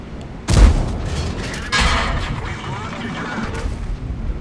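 A tank cannon fires in a tank battle video game, a sharp heavy boom followed by rumbling battle noise and a second softer blast, with a commentator talking over it.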